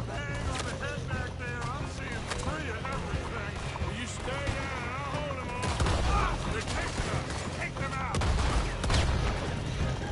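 Gunfire rattles through a Red Dead Redemption 2 gameplay scene, bursts of shots and a steady game soundscape with hoofbeats, while a person talks over the action.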